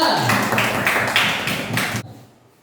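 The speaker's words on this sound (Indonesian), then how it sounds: "Tepuk tangan untuk kelompok 3." A classroom of students claps for a group of classmates in a rhythmic pattern of about seven sharp, close bursts, ending abruptly after two seconds.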